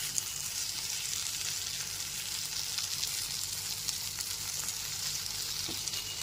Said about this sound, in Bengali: এবার পটলটা একটু নাড়াচাড়া করে নেব।